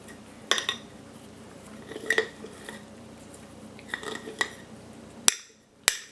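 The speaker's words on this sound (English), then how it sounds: "I'm just going to make sure I stir everything together." A sourdough starter of bleached flour and water is stirred in a container, with a few scattered clinks and taps of a utensil against the sides over a quiet background, ending in two sharp knocks.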